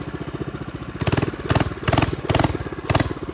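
A small mini bike engine runs close by with a rapid, uneven putter, revving in several short bursts that rise and fall over a few seconds, loud and rough, with no talk.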